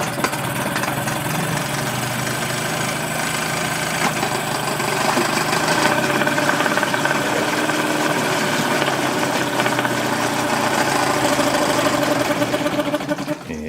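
A small outboard boat engine running rough and steady, its buzzing, rattling idle rising slightly in strength partway through before cutting out abruptly at the very end.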